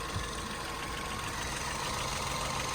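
A rusty car's engine idles steadily, a constant low rumble with a faint knocking texture that holds even and unbroken for a few seconds.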